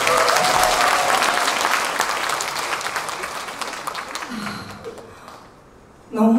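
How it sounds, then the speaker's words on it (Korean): An audience applauds at a Korean singer's album launch event, a loud sustained clapping that slowly fades to quiet before a brief final burst. "박수 한 번만 더 부탁드리겠습니다"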